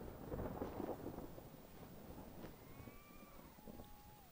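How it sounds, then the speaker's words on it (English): Rain and a rolling thunder rumble in the adventure game Brothers: A Tale of Two Sons, a low heavy swell early that fades into softer patter, with a faint whistling tone rising later. "Oh, thunder."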